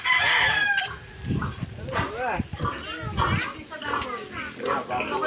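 A fighting cock crowing on a farm, its long rising calls heard near the start amid children shouting and people talking nearby.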